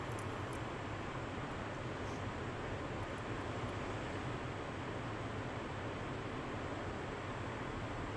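An F/A-18C jet in flight in DCS World produces a steady, dense roar of engine and wind noise that holds unchanged from start to finish, with no other sounds standing out.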